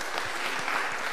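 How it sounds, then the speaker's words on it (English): A Lutheran church congregation gives a brief, dense round of applause, steady clapping heard alone without talk. "So let's also give him a round of applause."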